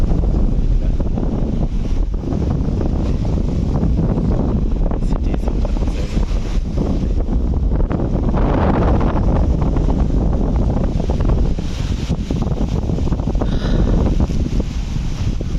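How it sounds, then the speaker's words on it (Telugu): Strong sea wind blows across the Kuwait seafront, roaring and buffeting the microphone in continuous gusts for the whole stretch, with no voices. "గాలి అయితే భారీగా ఉంది"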